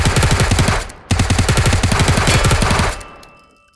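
Automatic gunfire from a weapon in the VR shooter H3VR: two rapid bursts of loud, evenly spaced shots, a brief gap near one second, then a fading echo tail after the second burst.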